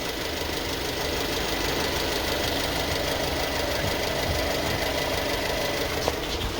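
A 2018 Jeep Compass with the 2.4-litre engine idles with the AC on after a coolant hose replacement, giving a steady, close, even mechanical drone with faint ticking and no change in pitch.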